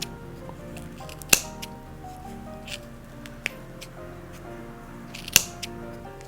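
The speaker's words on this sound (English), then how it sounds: "you use scissors a lot in felting. You can cut your shapes." Three sharp scissor snips cut through felted wool at irregular intervals, crisp and close, against a quiet background hum.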